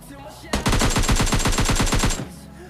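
A rapid automatic burst of AKM rifle fire in PUBG Mobile Lite, about fifteen evenly spaced loud shots over roughly a second and a half, then an abrupt stop.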